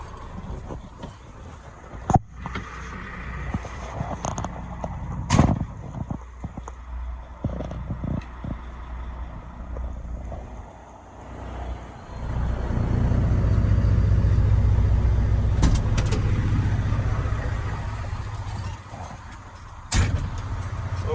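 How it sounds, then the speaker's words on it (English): A truck engine idles steadily at close range, swelling into a louder, sustained rumble midway through, with occasional sharp clunks and knocks from doors or fittings around the air brake system. "truck is running now"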